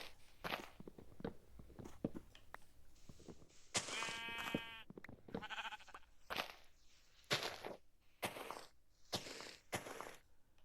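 Sheep bleating in a game, a clear bleat amid repeated crunchy footsteps, close and moderately loud.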